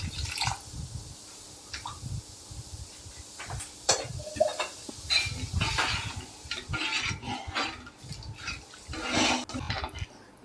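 A ladle stirring tomato rasam in a pot, with irregular wet sloshing, scraping and clinks against the metal rim, close by and moderately loud, with no one talking.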